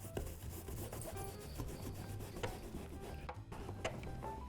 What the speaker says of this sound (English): you really want to work into the mesh with a microfiber towel